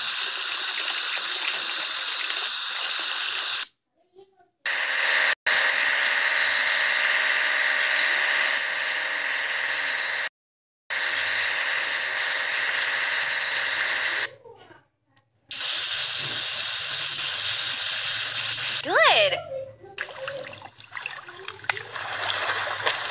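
Water splashes and sprays in bursts as a catamaran gets washed in a kids' puzzle game, with bright cartoon effects, short silent gaps and a rising whistle-like tone near the end.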